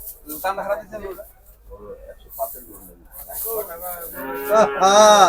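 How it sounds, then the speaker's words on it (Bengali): Cattle at the Gabtoli cattle market: voices talk over the crowd, then a deep drawn-out moo rises close and loud near the end. "দর্শক আরো একটি গরু দরদাম চলছে আমাদের মঞ্জু ভাইয়ের"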